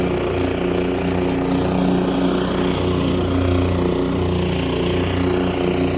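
A Ybravo 25-inch commercial lawn mower runs steadily while mowing grass with its bagger attached, a loud, close, constant engine drone with no pauses or talking.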